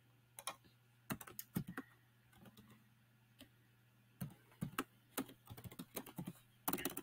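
Rapid bursts of typing on a computer keyboard while coding HTML table tags, crisp clustered key clicks with short pauses between, close and clear over a faint steady hum.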